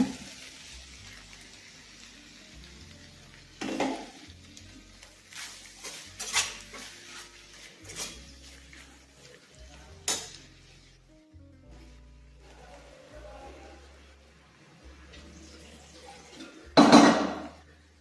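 Ground paste is added to a pan of capsicum gravy: scattered spoon clinks and scrapes against the pan, then one loud clatter near the end, with no voices.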